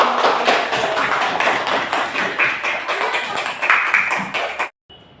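A classroom of children claps their hands together in an Islamic religious education lesson, a brisk, fairly close burst of uneven clapping with a few louder taps that stops abruptly near the end.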